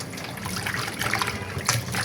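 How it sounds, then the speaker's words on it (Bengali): Cut food pieces being rinsed in water in a home kitchen, a steady close trickle and slosh with small splashes and a couple of brief louder gushes, no talking. "এখন আমি এই যে এগুলোকে ধুয়ে নিচ্ছি।"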